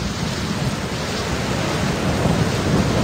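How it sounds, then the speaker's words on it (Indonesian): Cartoon storm sound effect of heavy rain with thunder, a dense, loud, continuous wash of noise with low rumbling underneath and no voices. "Badai sudah turun."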